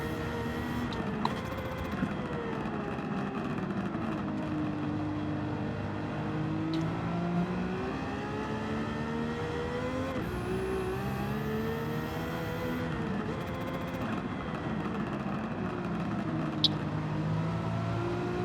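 A 1980s Nissan Skyline carrying a Godzilla engine swap accelerates hard in Gran Turismo 7, a steady loud engine drone with rising and shifting harmonic tones as gears change, continuous throughout.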